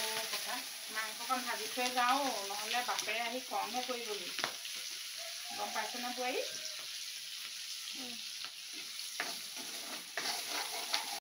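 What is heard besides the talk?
meat frying in a pan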